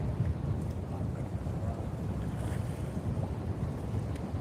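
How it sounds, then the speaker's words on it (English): Strong wind buffeting a covered microphone outdoors by the water, a loud, steady low rumble with gusty surges throughout and no speech. "so I do have a mic covered to help with the wind, but it's pretty windy right now"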